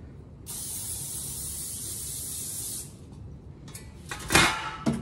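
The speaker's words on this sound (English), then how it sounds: "Spray over the sink." Cooking spray hisses steadily from an aerosol can onto foil lining a roasting pan over a kitchen sink, one continuous burst lasting a couple of seconds, followed by soft clatter of the pan being handled.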